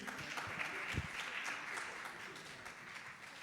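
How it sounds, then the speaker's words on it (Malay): Audience applause at a Malay literary awards ceremony in Singapore, a steady wash of clapping from a seated crowd that continues evenly throughout at moderate volume. "Tepukan gemuruh untuk Cik Rila Melati."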